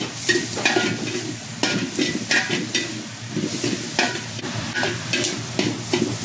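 Pork frying with bitter gourd (ampalaya) as onion leeks go into the pan, a constant loud sizzle broken by rhythmic scraping strokes of a spatula stirring close by.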